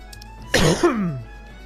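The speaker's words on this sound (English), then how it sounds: "Oh, this cough, blimey." One harsh, close cough followed by a short descending rasp, loud against a quiet background hum.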